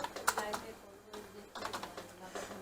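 Computer keyboard typing while naming a file in Microsoft Office, heard as quick close key clicks in a couple of short bursts separated by a brief pause.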